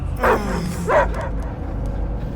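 A dog in the video game Guardians of the Galaxy gives two short, loud barks about half a second apart, followed by quieter background ambience.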